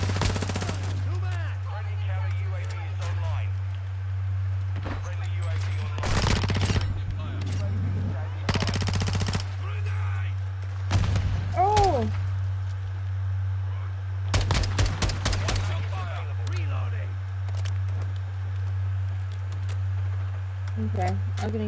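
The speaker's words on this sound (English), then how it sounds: "Okay, I'm getting shot from behind." Call of Duty gunfire rattles through bursts of machine-gun fire and scattered single shots, loud and close, over a constant low game hum with occasional talk in between.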